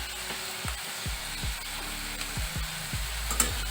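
Shredded cabbage fries over high flame in a pan as its water cooks off, a steady close sizzle punctuated by regular, rhythmic thuds of a spatula stirring, with no speech.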